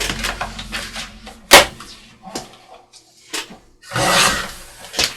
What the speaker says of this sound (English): I'm gonna cut off about an inch, I believe, off the top.